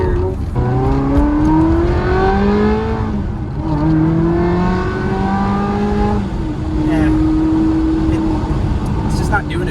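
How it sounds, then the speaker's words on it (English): A car engine revs hard as the driver accelerates, climbing through several rising sweeps close up and loud, with short dips between them. "So, we'll give it some gas here."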